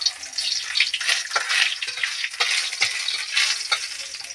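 Fenugreek seeds dropped into a frying pan with a little oil in a village kitchen, sizzling loudly and crackling close up with irregular spatters and stirring.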